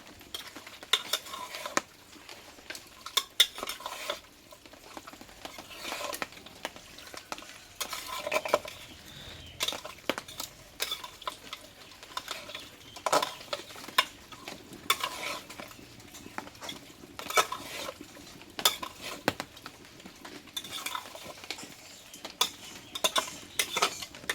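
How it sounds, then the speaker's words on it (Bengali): A metal spatula stirs and scrapes mutton and spices in a pot, making a steady stream of close clinks and scrapes with a faint sizzle underneath and no talk. "এবার এই মাংসটা মশলা দিয়ে আমি ভালোভাবে ম্যারিনেট করে নেবো কিছুক্ষণ এইভাবে খুন্তি দিয়ে দিয়ে"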